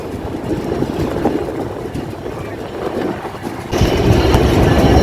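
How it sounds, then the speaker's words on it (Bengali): The Chitra Express from Khulna pulls into line three at Joydebpur Junction, a steady rumble of wheels and carriages with rhythmic clatter that grows louder near the end, partly under a voice. "পঁয়ত্রিশ মিনিট বিলম্বে খুলনা থেকে ছেড়ে আসা রাজধানী ঢাকা অভিমুখী চিত্রা এক্সপ্রেস জয়দেবপুর জংশনের তিন নম্বর লাইনে প্রবেশ করলো"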